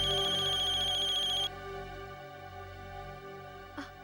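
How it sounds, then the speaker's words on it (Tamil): A telephone rings loudly in a repeating electronic trill that stops partway through, followed by quiet room tone with a faint handling click. "சூர்யாக்கு ஃபோன் பண்ணி சொல்றேன்."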